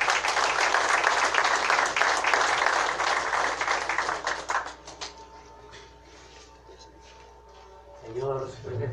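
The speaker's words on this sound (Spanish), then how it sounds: "De igual manera recibimos con caluroso voto de aplauso." Applause at a provincial anniversary ceremony in Azángaro: dense clapping for about five seconds, then breaking off into scattered claps and a quiet room before a voice begins speaking.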